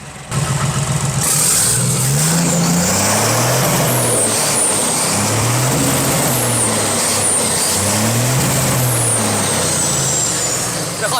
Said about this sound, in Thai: เบิ้ลตัดได้พี่ เบิ้ลตัดได้ครับผม